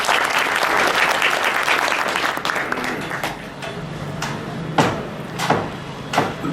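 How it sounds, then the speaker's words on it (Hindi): Audience at a Republic Day kavi sammelan poetry gathering in Nand Gram, Ghaziabad, breaking into loud dense applause that thins out into scattered claps, with a few sharp knocks. "एक बार जोरदार तालियां बजा दें"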